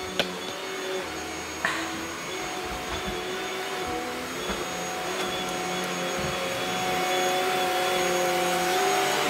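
A household vacuum cleaner runs with a steady, whining motor drone and faint bumps, growing slightly louder toward the end.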